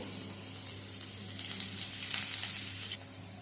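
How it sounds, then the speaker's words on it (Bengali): Chopped garlic, green chilies and a bay leaf sizzle in hot oil, a steady close frying hiss that swells brighter for a moment before settling back, with no voices. "সাত আট কোয়া রসুন কুচি চার পাঁচটা কাঁচা লঙ্কা আর একটা তেজপাতা ফোড়ন দিয়ে দিচ্ছি"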